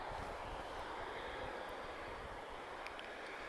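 Transavia France Boeing 737-800 airliner departing Lisbon Airport for Paris Orly, heard as a faint, steady, broadband jet roar from a distance.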